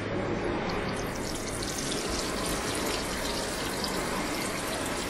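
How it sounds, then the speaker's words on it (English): Water runs steadily from an Airstream trailer's Moen shower faucet to bleed the lines, a constant loud hissing rush lasting the whole stretch with no talk. "I'm going to turn it on and I'm just going to let the water out of the lines and bleed it down"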